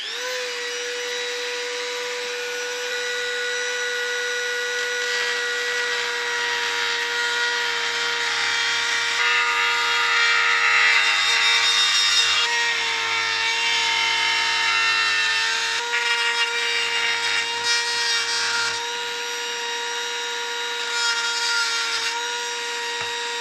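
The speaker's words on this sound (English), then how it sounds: "Now I'm going to get the Dremel and I'm going to try and cut this out quite neatly" A Dremel rotary tool cuts holes in a plastic enclosure for a WiFi water controller, a steady high-pitched whine running loud and continuous for the whole stretch, with slight shifts in pitch as it bites into the material.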